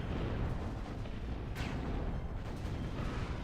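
A gas turret is destroyed in the strategy game Zero-K, a steady rumbling blast with a brief sharper burst partway through, no talk over it.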